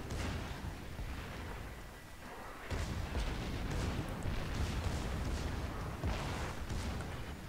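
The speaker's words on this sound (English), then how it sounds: "did somebody just explode in the back?" A ship explodes in the naval video game World of Warships: continuous rumbling booms and blasts, with a louder surge of explosions partway through.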